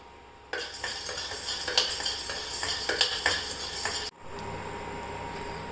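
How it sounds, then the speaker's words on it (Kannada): A utensil stirs and scrapes cinnamon and whole masala spices dry roasting in a pan on an electric stove, producing a steady, close rattle of clinks and scraping that stops abruptly. "ಇಲ್ಲಿ ಇವಾಗ ಚಕ್ಕೆ ಏನು ಮಸಾಲ ಐಟಮ್ಸ್ ಇತ್ತಲ್ಲ ಅದನ್ನೆಲ್ಲ ಇಲ್ಲಿ ಬಿಸಿ ಮಾಡ್ಕೊತಾ ಇದ್ದೀನಿ"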